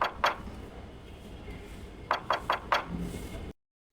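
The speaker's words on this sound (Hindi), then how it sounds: "अचानक दरवाज़ा खटखटाने की आवाज़ आती है।" Loud knocking on a wooden house door in a cartoon village scene: a single rap, then a quick burst of four sharp knocks close by, followed by silence.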